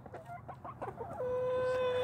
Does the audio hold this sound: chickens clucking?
yes